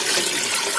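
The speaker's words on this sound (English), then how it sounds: "add cold water," Cold water pouring into a pot to make brine for mustard pickles, a brief continuous splashing rush of running water at close range with no talk.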